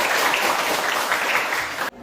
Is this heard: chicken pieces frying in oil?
no